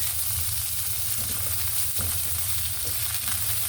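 Onions frying alongside chicken liver in a pan give a loud, continuous crackling sizzle with steady hiss and no pauses, close up and alone.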